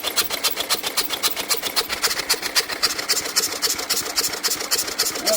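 An old Lister stationary engine, a barn find running for the first time in over 30 years in reverse rotation, chuffs with a fast, even, mechanical beat and a rasping clatter, loud and close, with no voices.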